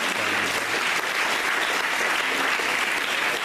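A large seminar audience claps steadily to recognise diamond coaches, a dense, even wash of applause that stays loud throughout, with no speech over it.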